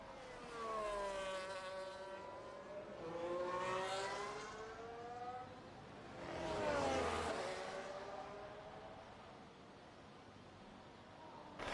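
Race car engines in a racing video game whine past in repeated rising and falling sweeps, several cars zooming by one after another at Hungary, with no talking.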